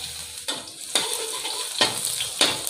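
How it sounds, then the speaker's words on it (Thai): Chopped garlic fries in vegetable oil in a hot wok, giving a steady crackling sizzle broken by several brief louder stirring scrapes, close up with no talking. "เจียวกระเทียมให้หอมแป๊บหนึ่ง"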